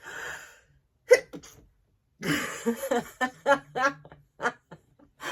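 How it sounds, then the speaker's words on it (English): A woman sneezes once, sharply, near a short gasp, and talking and breaths follow. "oh my gosh, I'm gonna sneeze again."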